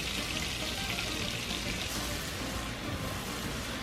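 Fresh garlic frying in melted butter in a pan, giving a close, steady crackling sizzle, like light rain, that continues evenly without speech.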